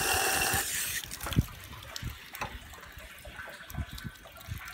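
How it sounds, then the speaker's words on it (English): Rainwater pouring off the side of a blue plastic rain-catchment barrel, a steady splashing trickle with scattered drips, louder at first and then settling into a softer, continuous flow, with no talk. "And there goes water off the side of the barrel down there."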